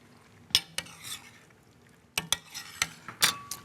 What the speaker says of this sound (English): Oh, stir in the lardon.